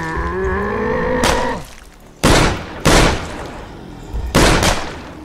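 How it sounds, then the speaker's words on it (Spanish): Several sharp, loud gunshot blasts in the video game State of Decay ring out in separate bursts, following a sustained tonal hum that cuts off abruptly. "Balazo."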